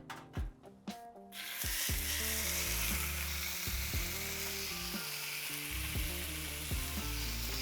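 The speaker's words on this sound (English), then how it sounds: "So while that steak sears" Steak sears in a hot cast iron pan with a loud, dense, continuous sizzle that rises sharply after a quieter start and holds steady with faint crackles, close and alone.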